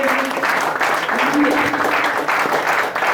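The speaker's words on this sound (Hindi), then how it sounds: "उनका इस्तकबाल अपनी तालियों की गूंज में कीजिए" An audience applauds to welcome guests arriving at a Hazara student federation party at AJK University, with steady, dense clapping that stays loud and continuous throughout, along with some crowd murmur.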